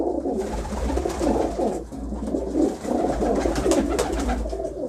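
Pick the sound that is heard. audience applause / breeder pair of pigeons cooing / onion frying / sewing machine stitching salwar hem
breeder pair of pigeons cooing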